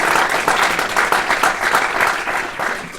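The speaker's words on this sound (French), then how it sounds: "Vous pouvez l'applaudir" An audience claps at an inauguration ceremony in France, a moderately loud, even round of applause with no voices over it.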